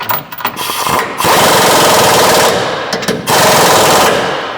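A riv nut tool sets a large riv nut into a car crossmember on a 1967 Barracuda, giving loud, dense pneumatic rattling in two long bursts separated by a brief pause, close to the mic with no talk.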